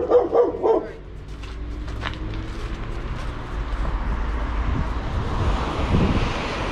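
A small red dog barks a few quick times near the start outdoors by the sea in snowy Lazarevskoye, Sochi, then wind and surf rumble take over.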